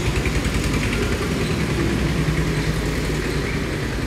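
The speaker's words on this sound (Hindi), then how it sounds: "ट्रैक्टर जा रहा है" A tractor goes by outside with a steady, loud low engine rumble that fills the whole stretch and does not noticeably fade in or out. No one talks over it.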